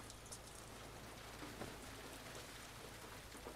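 Rain falling in the video game The Last of Us Part II, a soft, even hiss of drops that stays constant, with no speech over it.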